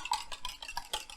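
A fork whisks eggs in a bowl for baked oatmeal, making about six quick, faint, rhythmic clinking strokes close by, with no talking.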